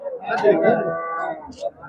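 Cattle lowing amid the bustle of the Karimangalam cattle market in Tamil Nadu, a drawn-out moo rising over crowd chatter and background voices, fairly close and moderately loud.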